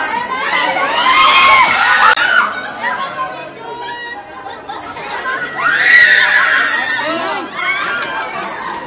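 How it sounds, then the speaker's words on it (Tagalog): Fans at a premiere night shout and scream in loud, excited waves, with shrill voices rising and falling over a dense crowd and chatter nearby. "hiyawan at sigawan ng mga fans ang maririnig sa paligid"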